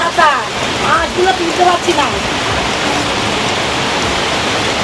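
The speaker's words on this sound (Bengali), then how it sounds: "বৃষ্টি আসলো ঝেপে একদম" Steady heavy rain hisses as a dense wash of noise, with voices talking briefly over it at the start.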